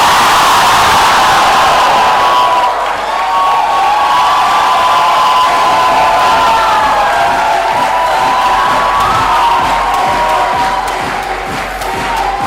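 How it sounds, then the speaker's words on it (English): Graduates at a graduation ceremony roar in a loud, sustained crowd cheer as they fling their hats, the dense shouting holding steady for the whole stretch. "give out the loudest cheer that you possibly can"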